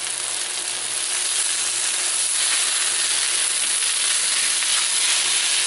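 Beef and broccoli fry in a hot pan while being stirred, giving a loud, steady, bright sizzle that hisses continuously with slight swells as the food moves.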